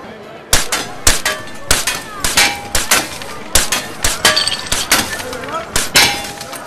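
Gunshots at a shooting practice range in a Brad Pitt and Angelina Jolie film: a steady series of sharp, loud reports about half a second apart, with metallic ringing and clinks between them.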